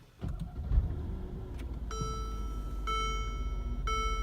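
A 2017 Mercedes-Benz SL 550 starts at the push of a button: a click, then the engine cranks and catches into a strong idle rumble, with electronic chimes sounding repeatedly over the running engine.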